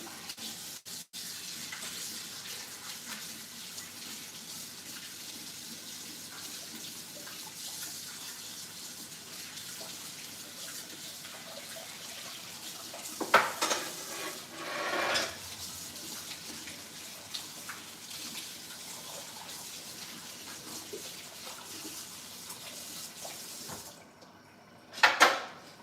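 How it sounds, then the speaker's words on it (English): A kitchen tap runs in a steady stream while a funnel and scoop are rinsed beneath it, with a few clattering knocks as the utensils shift and a brief louder splash near the end. "I should also rinse off my funnel and"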